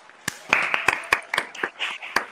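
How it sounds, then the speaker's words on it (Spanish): A few people clap briefly after a motivational talk, producing around ten sharp, uneven claps over two seconds, close and fairly quiet, with no voices over them. "Oye, muy bonito, un aplauso."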